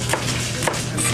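A knife slices Napa cabbage into thin strips on a cutting board, giving two or three crisp, close chopping strokes spaced about half a second apart over a steady background hum.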